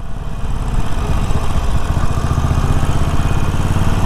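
Loud idling rumble from a Harley-Davidson Forty-Eight with a turbo exhaust whistle, a faint continuous high tone riding over the pulsing V-twin throb after a brief quieter start.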